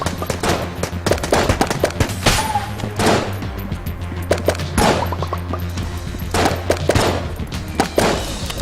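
Rapid gunfire from an inaccurate gun in the video game Enter the Gungeon: loud, dense bursts of shots in quick irregular volleys over a steady low game hum, with no pause.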